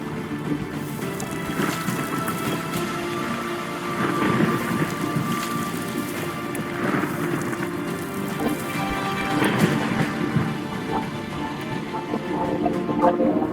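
A simulated hurricane over a coral reef aquarium brings steady heavy rain with rolling rumbles of thunder and some wind, a continuous storm wash that swells in bursts, with no voices.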